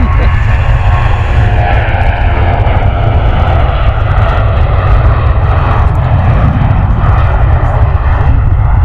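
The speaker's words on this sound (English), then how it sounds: "Jet2 holiday 737, very nice this one." A Jet2 Boeing 737 jet airliner roars loudly and close by at Stansted Airport, a sustained heavy engine rumble with a steady whine that persists for the whole stretch.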